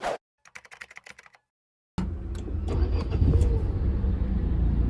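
Nissan Magnite SUV with a 1-litre turbo petrol engine pulling away, a steady engine and road rumble building after a few light clicks and a moment of silence.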